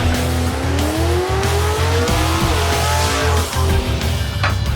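A drag race car, a hot rod at a drag week event, roars loud and steady through a pass, its engine note climbing with some tire squeal, close and continuous throughout.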